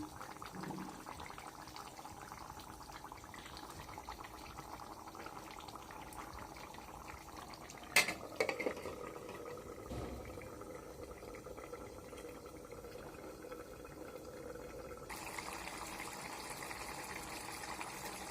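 Fried fish and potato curry simmering in a covered pot, a faint, steady bubbling close by with a couple of short clinks partway through.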